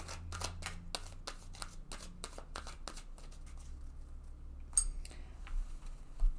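Tarot cards are gathered and slid back into a deck, giving a quick series of crisp shuffling and tapping clicks up close, then a few scattered softer rustles and taps.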